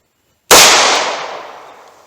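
A single sharp, loud gunshot from a J-frame revolver with a 1.875-inch barrel firing Hornady Critical Defense .38 Special 110-grain +P, cracking suddenly after silence and ringing off over about a second and a half.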